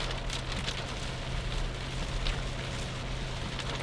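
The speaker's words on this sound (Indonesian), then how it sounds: "Ya hujannya cukup deras." Heavy rain drums on the road and vehicle during a drive along a coastal highway between Indramayu and Cirebon, a dense, steady hiss with a low engine hum beneath.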